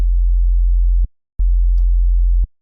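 A deep, steady sub-bass tone made in the Serum synthesizer plays alone, sustained for about a second, cutting out briefly, then returning for another second.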